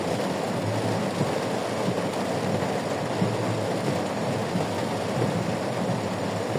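Steady rain hisses continuously while driving through jammed Farmgate streets in Dhaka on a cloudy day, a dense, even wash of noise with faint low rumble and no voices.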